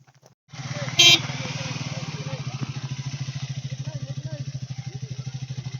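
Motorcycles of a group of bikers on a rough road in Ekole Valley near Lonavala rev up and pull away, a steady pulsing engine drone close by, with a short horn blast near the start and voices in the background.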